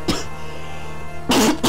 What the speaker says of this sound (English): that was an unnecessary cough